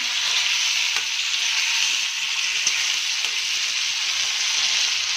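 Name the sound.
cut tomatoes sizzling as they are added to the pan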